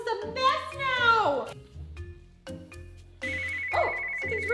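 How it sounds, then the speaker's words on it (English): A ringtone trills in repeated bursts alongside a voice amid toy play in a messy house, the electronic ring sounding loud and close, breaking off and returning. "Oh, something's ringing."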